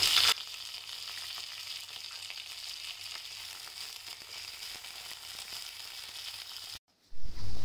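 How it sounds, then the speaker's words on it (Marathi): Onion and curry leaves frying in hot oil with mustard and cumin seeds for a beetroot bhaji, giving a steady close hiss with faint crackles that breaks off near the end. "आता आपण कांदा आणि कढीपत्ता टाकूया। हा चांगला परतून घेऊया आपण।"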